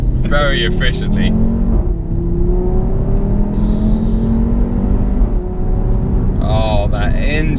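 Audi RS3 five-cylinder hot hatch accelerating hard, engine note climbing through rising harmonics with gear changes, loud and close inside the cabin, with voices talking over it at start and end.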